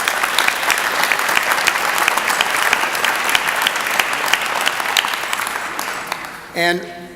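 Applause from the audience at a temple housewarming ceremony, a steady dense round of clapping held for about six seconds before tapering off, followed by a short burst of voice at the end.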